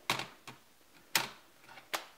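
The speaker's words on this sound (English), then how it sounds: "it just kind of snaps on and covers the device" Anker Ultra Thin Cover Keyboard case clicking onto an iPad Air by its side magnets, four sharp snaps spaced about half a second apart, close and clear with no talking.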